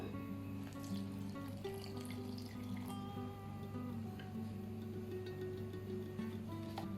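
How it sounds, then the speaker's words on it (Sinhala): Water running into a blender jar of batter for crispy chicken, a steady close trickle and splash with small drips over several seconds, no talk. "අවශ්‍ය ප්‍රමාණයට වතුර දාගෙන අපි මේක බ්ලෙන්ඩ් කරගමු"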